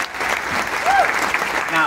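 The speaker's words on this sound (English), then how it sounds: "Give her a big round of applause." Audience applause at CPAC Australia fills the room, a dense steady wash of clapping with a brief faint whistle-like tone partway through.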